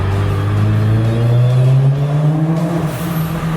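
Turbocharged 375 HP Toyota FRS drifting on public roads, the engine revving hard with a steadily climbing pitch, loud and close with no talk over it.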